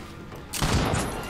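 A firecracker bursts in the Dead by Daylight video game, a sudden loud crackling burst that fills the mix with rattling pops for most of a second.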